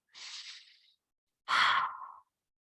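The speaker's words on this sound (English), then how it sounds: "big inhale into the belly, exhale out from the back of the throat" Two deep breaths, close and clear in quiet: a soft hissing inhale into the belly, a pause, then a louder, rougher exhale pushed out from the back of the throat, as in circular breathwork.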